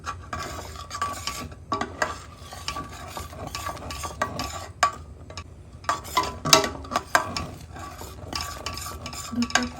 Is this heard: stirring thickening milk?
yes